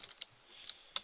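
Repeated presses of the Tab key on a computer keyboard while setting up a roller derby scoreboard program, giving several sharp, close, separate clicks with quiet gaps between them.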